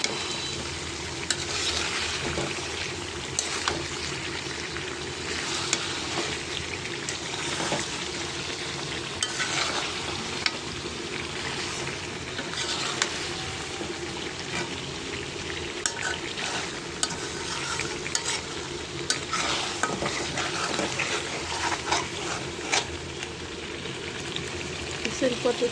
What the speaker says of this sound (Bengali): এই মশলাটা তেলের লগে বেশি ভাজা ভাজা তাহলে ভালো লাগবে।